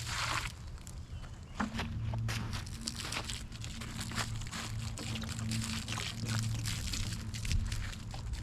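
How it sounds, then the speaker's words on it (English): Water is poured into a garden soil mix, giving a continuous rushing, splashing wash with some crinkly rustling and a low hum underneath, fairly close and with no talking. "I'm gonna just get a little bit of water to add to it"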